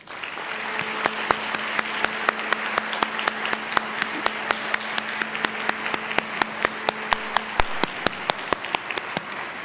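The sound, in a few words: graduates applauding family and friends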